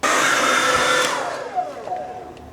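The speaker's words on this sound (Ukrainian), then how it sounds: "Це моя улюблена ранкова рутина сушити речі феном, який перегорає тут." A hair dryer that is burning out blows loudly and steadily while drying things, then its roar drops and trails off as it winds down, with no one talking.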